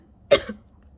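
A single short cough, close and sharp, followed by silence.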